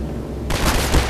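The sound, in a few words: gunfire shooting a box in video game Half-Life 2 Episode 2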